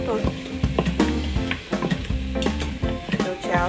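Rice stir-fried in an Instant Pot before porridge with ribs: close, busy scraping of a spoon against the pot with steady sizzling and clinking strokes, no talk.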